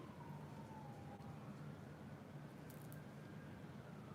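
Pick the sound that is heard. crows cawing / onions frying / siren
siren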